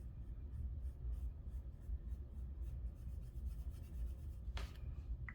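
Sharpie markers colouring on paper, a faint, continuous soft rubbing and scratching of felt tips with small rhythmic strokes, heard close and alone, plus one brief sharper scrape near the end.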